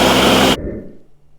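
A blender runs loud and close, pureeing hummus ingredients with a dense whirring roar, then cuts off abruptly about halfway through, leaving a brief fading rumble.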